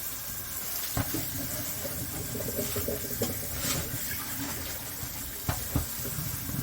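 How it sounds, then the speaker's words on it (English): Running tap water rinses a pan in a sink with a steady close hiss, broken by a few sharp knocks of the pan against the basin. "we're going to go over here and rinse this one off"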